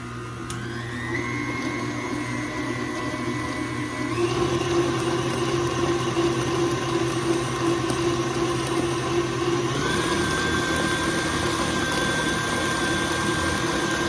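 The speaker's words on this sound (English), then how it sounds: "I'll go ahead and turn the mixer on" An electric mixer beats banana cake batter with a steady, close whirring hum that steps up in pitch twice as the speed rises, running alone without talk.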